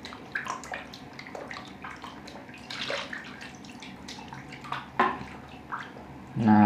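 Chicken liver and gizzards washed and squeezed by hand in water, with close sloshing, dripping and splashing that swells and fades over several seconds, no speech heard.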